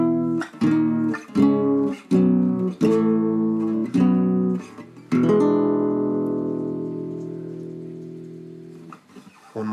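Acoustic guitar playing the outro of a song, a series of crisp strummed chords in a steady rhythm, then a final chord left ringing and slowly decaying, played close and alone.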